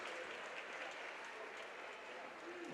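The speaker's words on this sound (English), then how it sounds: "to the roaring approval of the crowd" Steady, sustained crowd applause fills a swimming meet natatorium as a swimmer touches the wall, a dense wash of clapping and cheering at even loudness throughout.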